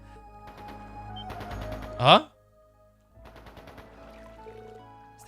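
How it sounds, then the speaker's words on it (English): Gunfire in the video game Trails into Reverie comes as two rapid bursts of automatic shots at moderate distance, with a brief voice and a sharp chirp between them. "Is that gunfire?"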